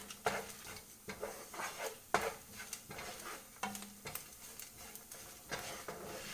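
Cinnamon and cumin fry in a pan for a mushroom masala, giving a faint, steady sizzle. Soft stirring scrapes and taps recur about once a second, close and quiet, with no voices.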